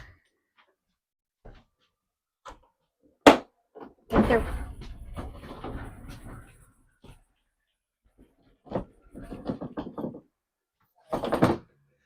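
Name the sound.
door shutting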